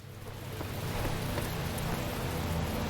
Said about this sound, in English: Was it starting to rain again?